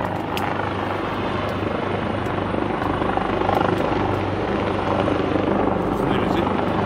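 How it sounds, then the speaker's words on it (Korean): A helicopter hovers over Jungcheongbong peak on Seoraksan, a steady loud rotor drone filling the whole stretch, with a hiker's voice faintly under it. "중청봉에 헬기가 떴네."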